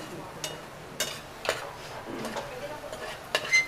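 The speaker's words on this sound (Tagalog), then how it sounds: "Yan po ang tawag dyan ay nagigisa tayo ng walang mantika" Vegetables sautéed in water without oil are stirred in a pan, with a series of close scraping and tapping strokes over a soft sizzle, spaced about half a second apart.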